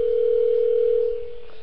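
A telephone dial tone sounds loud and close as a steady continuous hum, dropping slightly in level near the end while a number is being dialed, with no talking.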